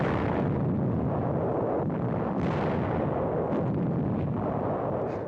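Archival war footage of guns firing on Japanese positions that had been harassing supply lines: heavy, rumbling blasts rise out of a continuous, hissing roar of old film noise, and no one speaks.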